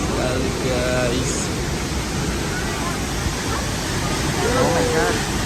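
The Telun Berasap waterfall in Kerinci pours with a loud, steady, dense roar that never lets up, with faint voices and a few thin tonal calls surfacing briefly above the rush.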